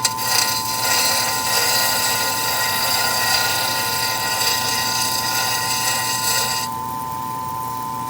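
A grinding wheel whines loudly with a steady high ringing tone, then near the end drops to a quieter hum as the work moves to the next wheel. No talk.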